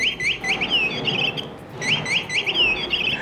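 A button-activated parrot keychain toy gives out repeated bright, warbling bird chirps in two bursts separated by a brief pause. The chirps are loud and close against light background noise.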